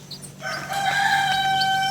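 Young chicks raised in town make high peeping calls, followed by a loud, close rooster-like crow with a strong harmonic tone that swells and holds, standing alone without speech.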